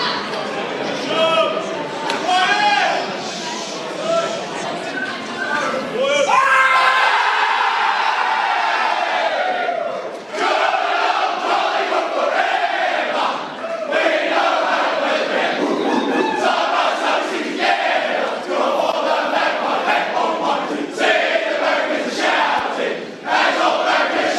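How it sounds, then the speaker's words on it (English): A huge AFL preliminary-final crowd at Collingwood versus GWS Giants roars and chants together, a loud, sustained wall of voices with surges of cheering that stays steady throughout. "Just the crowd joins in"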